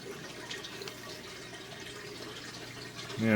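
Water running steadily during an aquarium water change, a soft continuous trickle and splash with a few drip-like accents, moderately close, swelling louder right at the end.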